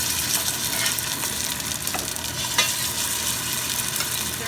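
Quinoa veggie burgers frying in smoking-hot oil in a high-sided pan, a loud, dense, unbroken crackling sizzle that holds steady throughout, with a couple of brief sharper pops and no voices.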